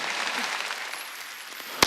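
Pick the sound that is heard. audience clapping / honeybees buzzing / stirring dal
audience clapping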